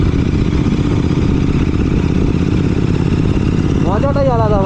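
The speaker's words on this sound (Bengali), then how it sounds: "এক্সজস্ট নোটটা তোমরা শুনতেই পাচ্ছ কীরকম এক্সজস্ট নোট দিচ্ছে" Royal Enfield GT 650 twin with an RRP aftermarket exhaust, heard on a morning ride: a loud, steady engine drone runs throughout with a short rising rev near the end.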